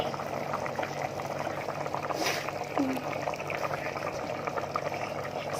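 A pot of pork and bamboo shoot curry bubbles at a steady boil, a dense continuous simmering hiss with faint liquid pops throughout, close and even in level, with a brief brighter burst partway.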